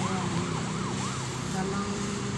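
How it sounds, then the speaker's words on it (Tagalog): An ambulance siren wails through a city, its rising and falling yelp cycling several times at moderate distance over steady traffic noise, with a voice talking faintly. "Maya-maya lang mga ambulansya guys, mga kabisayan."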